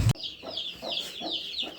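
A backyard mother hen with chicks gives soft, repeated clucks in an even rhythm, close to the listener. A brief thump is heard at the start, and no one talks.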